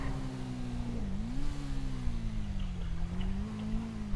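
A motorcycle engine in GTA 5 revs steadily throughout, a loud droning tone that dips briefly and then rises again, with no talking over it.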